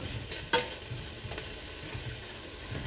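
Cornish hen soup ingredients fry and sizzle in a pot with a steady hiss, broken by a single clink as something is stirred.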